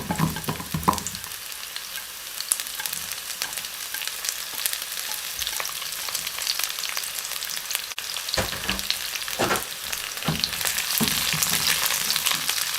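Onion sizzling and frying in a pan with garlic and ginger, a steady bright crackle throughout with occasional stirring scrapes, close and fairly loud, no talking.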